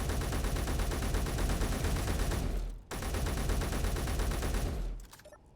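Sustained rapid automatic gunfire from Space Engineers, a dense unbroken stream of shots filling the space, cutting off briefly midway before resuming and then stopping abruptly.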